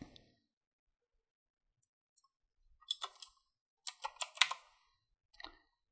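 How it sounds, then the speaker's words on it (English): Someone types a patient's name on a computer keyboard, with a few sparse clicks followed by two short bursts of quick, close key taps in a quiet room. "We will begin typing in the patient's name."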